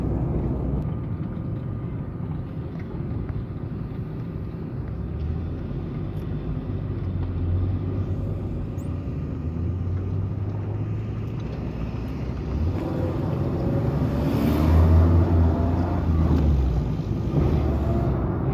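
A Hino diesel vehicle's engine, which has a crankshaft bearing and connecting rod fault, rumbles steadily at speed as traffic passes, swelling louder toward the end as a vehicle goes by, with no talking.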